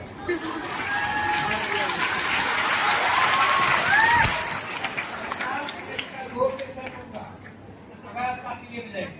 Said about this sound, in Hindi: आप जितना ताली बजाएंगे उतना जल्दी मैं जाऊंगा